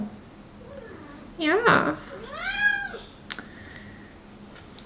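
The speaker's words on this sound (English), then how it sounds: "my cat is going to be increasingly needy because we're getting close to her feeding time" A hungry pet cat meows near her feeding time, giving a loud, drawn-out plaintive meow followed by a second rising-and-falling meow, close by, with a brief word of human speech and light clicks afterward.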